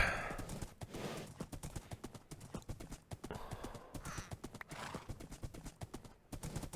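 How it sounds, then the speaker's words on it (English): Horse hooves clip-clopping in the video game GregTech New Horizons, a quick irregular series of hollow knocks, fairly close and moderately loud, with a brief whinny-like sound mixed in. "No, it's probably a horse"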